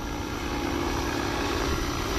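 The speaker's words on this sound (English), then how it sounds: "It's just flying, helicopter's hovering itself." RC helicopter hovering on its own in GPS mode, a steady, dense rotor and motor whir that holds at an even level with no breaks or other sounds.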